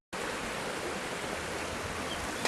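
Water running in a small park stream makes a steady, close, broadband rush that starts abruptly and holds unbroken for a couple of seconds, with no voices.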